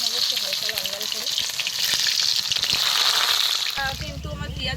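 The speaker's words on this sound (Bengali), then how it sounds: "এবার মশলা কষানোর জন্য কিন্তু পেঁয়াজটা ভেজে নেবো একটু হালকা লাল লাল করে" Chopped onions sizzle and crackle steadily in hot oil with cumin for a crab curry, a loud, close, continuous frying hiss with occasional stirring.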